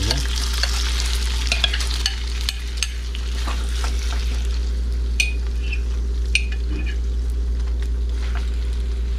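Thinly sliced chicken fries gently in a pan for chow mein, a steady soft sizzle over a low hum, with occasional clinks and scrapes of stirring.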